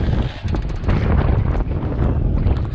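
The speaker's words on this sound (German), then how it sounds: "Es geht noch immer ein ziemlicher starker Wind" Strong wind buffets the microphone outdoors on a snowy winter morning at the Hochficht ski area, a loud, continuous low rumble with gusty surges and no speech.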